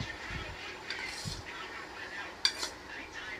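Utensils scraping and clinking in a bowl while Korean chicken noodles are mixed, faint close clatter with a couple of sharper taps, quiet voice in the background.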